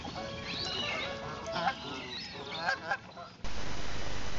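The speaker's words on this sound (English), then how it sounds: "And this is geese, Canada style." Canada geese honking on a main street in Port Hope, Ontario: a flock calls in repeated, overlapping honks at moderate distance, then a steady broad rush of noise takes over near the end.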